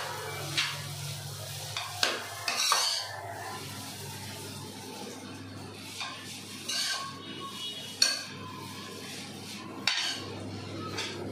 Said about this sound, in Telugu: మిరియాల పొడి వేసుకొని మంచిగా అంతా కలిసేలాగా